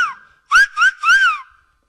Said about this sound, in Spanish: podemos tocar este silbato